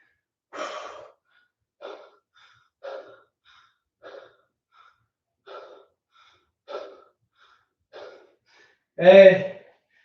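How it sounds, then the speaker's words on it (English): Deep breathing after a home push-up workout, heard as about eight spaced, close breaths at a slow even rhythm, ending on one louder, heavier exhale. "Deep breath, everybody. Deep breath."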